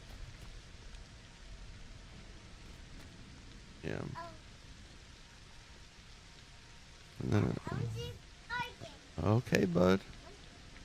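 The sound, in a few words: rain in the video game LEGO Fortnite Odyssey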